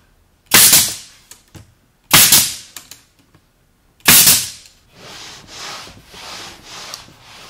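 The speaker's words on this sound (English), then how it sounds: "Put a couple of additional nails in our back fence." Three loud, sharp bursts ring out at a steady pace as extra nails are driven into the wooden back fence of a table saw crosscut sled, each followed by small knocks, then a softer rubbing and shuffling at the end.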